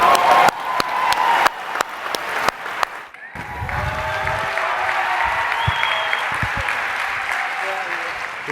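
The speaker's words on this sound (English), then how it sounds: "Let's clap it up for her." A crowd applauds steadily, clapping filling the room, with a few sharp individual claps at the start before the applause swells and continues.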